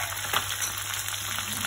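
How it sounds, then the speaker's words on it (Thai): Naturally raised tilapia frying in hot oil, a short burst of dense, even crackling sizzle heard up close. "พี่น้องจะได้เห็นบรรยากาศการทอดปลาปลานิล"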